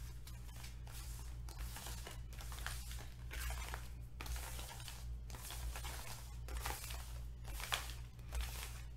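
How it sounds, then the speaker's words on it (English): A tarot card deck is shuffled softly and close by, with faint repeated riffles and papery rustles at a steady rhythm over a low background hum. "I'm gonna do a little shuffle here."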